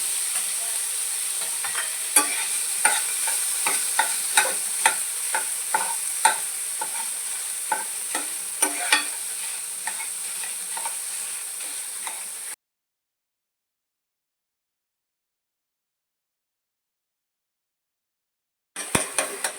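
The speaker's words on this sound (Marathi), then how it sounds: "आता आपण खवा परतून घेऊयात" Unsweetened khoa, about 125 grams of milk solids, sizzles softly in a pan while a spatula scrapes through it in a regular rhythm. The sound cuts to silence for several seconds, then the stirring briefly returns.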